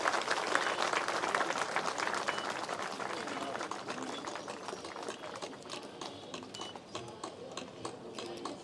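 Applause from a gathered crowd at the inauguration of a vegetable market building, dense and steady clapping that gradually thins toward the end.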